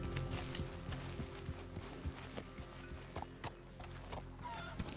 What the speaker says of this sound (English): going after that horse